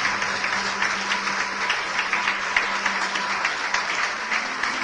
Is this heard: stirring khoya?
no